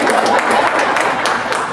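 An audience at a healthcare leadership conference keynote breaks into applause, a dense, steady patter of many hands clapping close and loud for a short burst.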